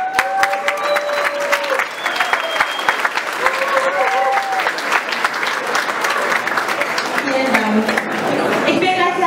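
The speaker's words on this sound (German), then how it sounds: "vielleicht einen Applaus" Applause at a photography soirée, with a room full of people clapping steadily and loudly under cheerful chatter and a few raised voices.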